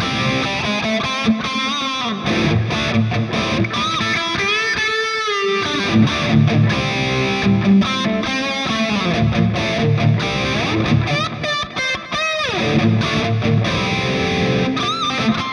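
Distorted electric guitar through a Choptones Suur Custom 100TP amp model plays chords and lead runs, with delay and chorus effects giving echoing repeats and a shimmering, doubled tone throughout.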